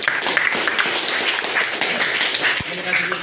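A classroom of students applauds a classmate named Sultan after a recitation, a dense, close clapping that runs steadily for about three seconds, with voices mixed in beneath it.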